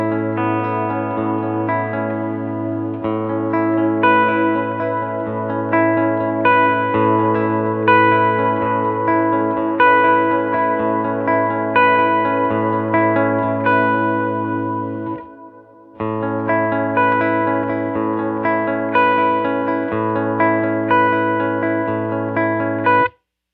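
An electric guitar runs through a UAFX Galaxy '74 tape echo pedal with all three playback heads engaged, sustained chords smearing into a dense, reverb-like wash of repeats, with a short drop to near silence midway.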